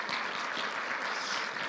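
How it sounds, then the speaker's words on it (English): A church congregation claps for the praise and worship team in a brief, dense burst of applause at moderate distance, with no voices over it. "Can we give a hand of applause to our praise and worship team this morning?"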